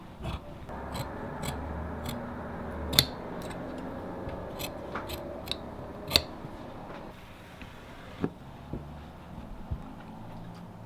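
Vintage tailor's shears cut through coat fabric up close, with a steady series of sharp snips spaced about a second apart over a quiet background hiss.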